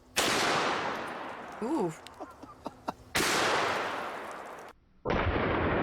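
A Magnum Research BFR .500 Magnum revolver with a 20-inch barrel fires Underwood 350-grain jacketed hollow points outdoors: three huge booming shots with long decaying echoes, and a short exclaimed voice between the first two.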